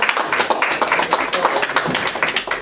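Brisk clapping from a game show studio audience welcoming a newly drawn contestant, a crowded patter of hands that keeps a fairly even level throughout, with faint voices mixed in.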